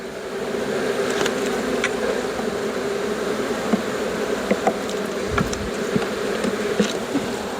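Honeybees buzz steadily around an open hive as frames are lifted during a Flow Hive inspection of a corner hive, a dense continuous hum with a few sharper individual bees zipping close by.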